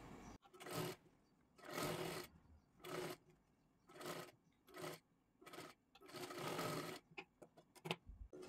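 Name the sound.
sewing machine stitching a blouse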